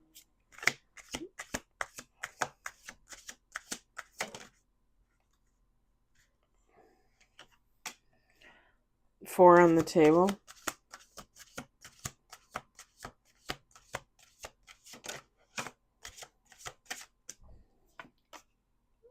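Tarot cards being shuffled by hand in close, crisp bursts of riffling and flicking, broken up by quiet pauses, while a person talks softly in between the shuffles.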